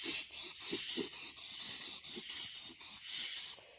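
Aerosol primer spraying onto an old brake drum for a Jeep, a close, steady airy hiss broken into repeated short bursts about every quarter second, with faint rubbing underneath.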